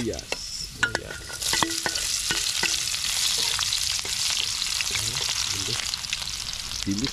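Garlic and onion frying in a hot pan during a riverside vegetable cook in Taiwan, a steady loud sizzle with repeated scraping and stirring clatter throughout, no talking.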